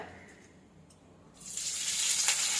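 Mustard seeds and curry leaves go into about 20 ml of hot cooking oil and break into a sudden loud, hissing sizzle after a quiet start, continuing steadily to the end.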